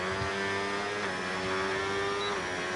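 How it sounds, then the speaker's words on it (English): An Aston Martin Formula 1 car engine in a racing video game, a steady high-pitched tonal whine that shifts pitch slightly as it holds revs at close range, with no talking. "I'm not really rating this engine, on the Aston Martin"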